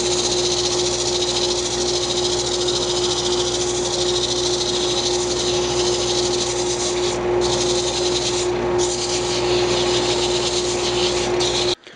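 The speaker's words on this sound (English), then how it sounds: "I'll turn the dust collector back on because I'm just going to dry sand this" A dust collector roars steadily in a woodturning shop while a wooden lamp is dry sanded on the lathe, the hiss of sandpaper blending into the constant drone until it cuts off at the end.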